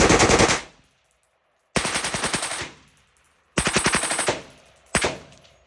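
Rapid-fire bursts from a rifle with an Atrius forced reset trigger on a PSA lower and a modified Dirty Bird trigger: four loud, close strings of fast shots, each followed by a short echoing decay and silence.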